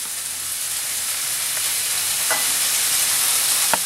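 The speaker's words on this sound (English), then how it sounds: "So now we'll add our potatoes here." Potatoes frying in a pan with onions and garlic give off a steady, loud sizzle and hiss throughout, with a few faint stirring scrapes near the end.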